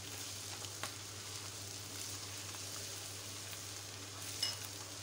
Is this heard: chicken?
yes